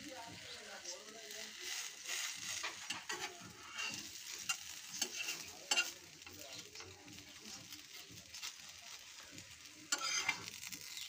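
Patishapta pitha fries in a kadai with a steady crackling sizzle, joined by the scrape and stir of a utensil against the pan, and a voice talks over it throughout.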